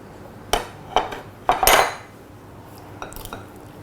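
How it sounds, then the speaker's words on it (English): Sri Lankan beef curry being stirred in a metal pot, a few sharp clanks and scrapes of a spoon against the pot in quick succession, then quieter taps, close and without talk. "Give it a good stir."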